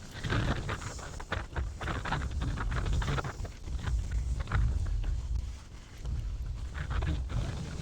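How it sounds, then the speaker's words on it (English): Steady wind gusting outdoors across the Trona Pinnacles desert trail, a constant rough rumble and buffeting against the microphone with scattered crunchy footsteps on gravel, no voices. "it's windy."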